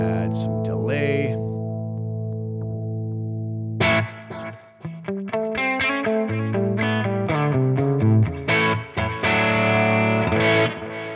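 An electric guitar played through a Tonex tone model downloaded from ToneNet, with a delay effect added, rings out in sustained chords and then a run of picked notes whose repeats trail behind, loud and close.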